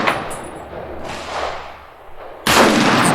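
Shots from an M1A rifle fitted with a Norwegian barrel, loud close reports with long echoing decay outdoors, three blasts spaced about a second apart, no talking.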